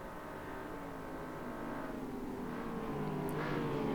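A field of 1967 touring cars, including a Mustang, a Mazda and a Datsun, race at Silverstone in Assetto Corsa. Several engines drone together with steady, rising tones that grow slightly louder, and there is no talk.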